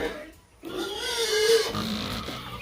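Hungry pigs on a rural farm squeal loudly before feeding, with one drawn-out squeal rising and fading over about a second amid grunting noise, while a person speaks nearby.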